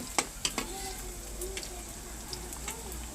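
Chillies tipped into a hot pan with green chillies, coriander, garlic and onion, giving a steady close sizzle with a few sharp clatters at the start as they land and are stirred.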